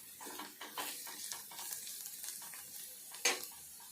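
Chopped onions fry in a pan at home, giving a steady close sizzle broken by rhythmic stirring scrapes and a single sharp utensil clink near the end.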